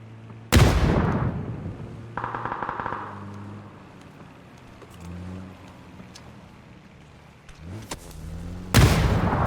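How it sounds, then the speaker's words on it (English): Loud booming blasts of grenades going off in a battle-royale style video game, a heavy burst at the start and another at the end, with rumbling and lighter crackling hits in between. "He's dropping blue zone grenades on me"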